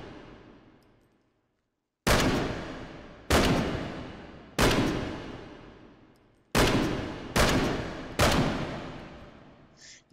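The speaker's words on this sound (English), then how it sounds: "Let's shoot some on target." Six loud SVT-40 semi-automatic rifle shots fired at a target in the VR shooting game H3VR, sharp cracks spaced about a second apart, each with a long decaying echo, no talking.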